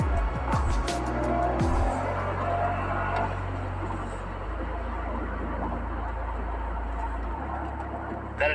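A 2023 Toyota GR Corolla engine pulls hard from mid revs, a steady loud drone with stepped pitch changes as it accelerates and corners, with some tire noise and brief talk near the start.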